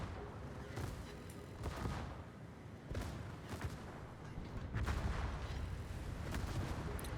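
Naval guns firing in World of Warships, with repeated heavy booming salvos and rumbling blasts spread across a dense, continuous battle soundscape.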